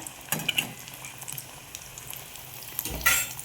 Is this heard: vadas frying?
yes